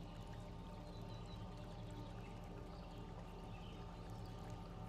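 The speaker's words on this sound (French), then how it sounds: "le murmure d'un petit ruisseau que vous n'aviez pas remarqué jusqu'à présent" A steady, continuous rush of flowing water from a small babbling stream in a tropical garden, even and unbroken throughout, with no voices.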